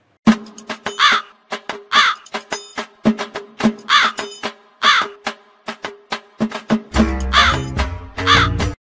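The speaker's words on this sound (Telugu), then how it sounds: "అక్కడకు వందలాది కాకులు చేరుకుని అరవడం మొదలుపెట్టాయి" Crows cawing in a daily market in Tatipaka, Konaseema, with loud, harsh caws repeating in a rapid, uneven rhythm, several birds overlapping close by, and a brief burst of noise near the end.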